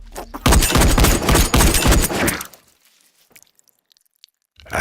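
Gunfire in an action thriller, a rapid loud burst of close shots lasting about two seconds, then near silence before another sound begins.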